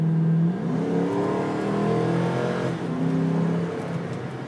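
A 2006 Ford Mustang GT convertible's V8 rises through a single strong rev and eases back, then climbs again, a close, steady engine note with no talking.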